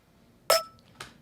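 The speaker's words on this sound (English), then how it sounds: "here's the main point of this video, this snare" A bright, metallic snare hit with a sharp clink and ringing tone, followed by a second quieter hit half a second later, alone in silence.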